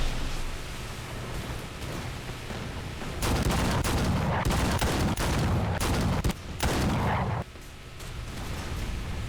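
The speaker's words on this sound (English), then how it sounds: "There's so much tracer coming in, it's not even funny." Incoming tracer fire rakes naval boats in a War Thunder battle, a dense, continuous roar of rapid gunfire bursts layered over engine and water noise, swelling louder through the middle before easing.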